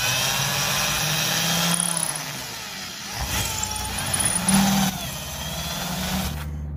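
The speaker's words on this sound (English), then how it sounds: "Okay, so I start small, 3mm drill bit." A power drill with a 3mm bit whirs steadily at close range while making a fishing lure, its motor pitch shifting slightly as it bites, with brief pauses and surges in loudness.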